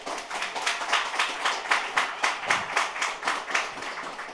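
Steady applause from an audience at a game makers lounge event, a dense run of many hands clapping at close range, rising and falling in gentle waves without pause.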